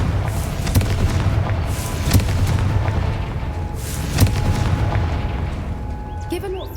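A Confringo spell fired in the Hogwarts Legacy game goes off in three or four booming blasts spaced a second or two apart over a dense, roaring rumble, loud and close.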